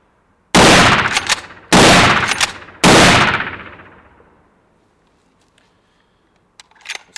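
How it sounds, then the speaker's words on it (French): Three loud Verney-Carron Linergie rifle shots ring out in quick succession at a shooting range, each sharp crack trailing into a fading echo, followed by faint mechanical clicks near the end. "Allez, on passe tout de suite au tir. J'ai remis en place le chargeur. La carabine est prête à faire feu."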